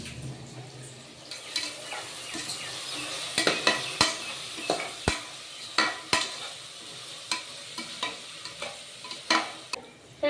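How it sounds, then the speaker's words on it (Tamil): Tomatoes, mint and coriander sautéing in a pan, giving a soft continuous sizzle broken by a steady series of sharp spoon scrapes and taps against the pan. "சூப்பராக எல்லாமே வதங்கிடுச்சு."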